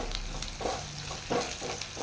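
Two dried red chillies frying in hot oil, a steady close sizzle with soft irregular stirring scrapes swelling and fading over it.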